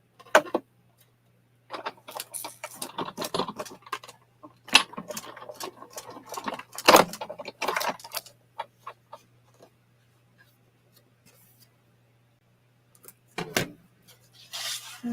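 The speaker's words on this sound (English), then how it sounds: "now I'm going to recut that one and cut my flowers" Scissors snipping out paper craft flowers, with irregular clusters of short crisp cuts and rustles near the microphone, several pauses of near silence between bursts and a low steady hum underneath.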